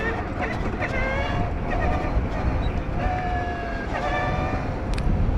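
Matter Aera 5000+ electric motorcycle pulling away in first gear, a steady whine rising in pitch over constant wind and road rush, with someone talking throughout.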